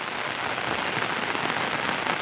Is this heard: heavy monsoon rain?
yes